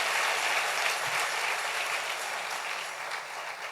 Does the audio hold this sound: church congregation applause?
yes